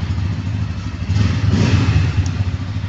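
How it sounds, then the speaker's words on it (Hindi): A 2023 Bajaj Pulsar N160 motorcycle runs with a steady, low engine and exhaust note that swells slightly midway. It sounds close and continuous, with no talking. "तो अब चलते बाइक को स्टार्ट करते, इसके एग्जॉस्ट नोट सुनाता हूँ आपको"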